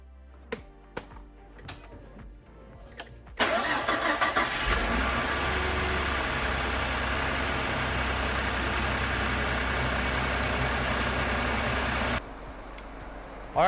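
A Ford F-150 pickup truck with major issues cranks and fires up for its first start, settling into a loud, steady idle close by after a few faint clicks and knocks, then dropping slightly quieter near the end.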